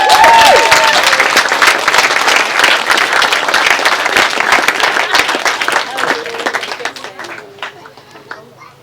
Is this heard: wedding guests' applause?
yes